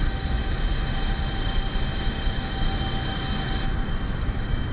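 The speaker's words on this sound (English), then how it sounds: "the engines are definitely, you know, less noisy than her predecessors. You can probably hear in the background." A Boeing 747 jumbo jet in Microsoft Flight Simulator gives a steady, even engine roar with a thin high whine running through it, continuous and moderately loud, with no talk.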